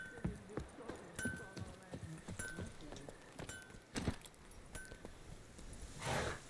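A horse's hooves clip-clop at an irregular pace in The Witcher 3, with sharp close knocks, a brief whinny and faint game sounds, under soft background talk.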